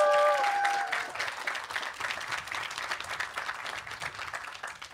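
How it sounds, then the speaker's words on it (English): Audience applause for graduates at an undocumented students' graduation celebration, moderate clapping following a brief whistle-like tone, gradually fading. "Let's give another round of applause to our graduates"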